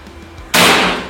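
A single sharp shot from a GK Mini Gen 3 PCP air rifle cracks loudly after a quiet moment, then trails off quickly.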